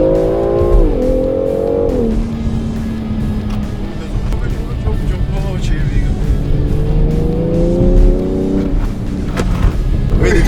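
A Mercedes W124 races around a track, its engine revving loud and close and rising and falling in pitch through the gear changes, while a person talks over the noise.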